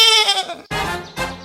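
A goat bleats in a cartoon animation, a loud wavering bleat followed by two more close, strong calls, with no talking over it.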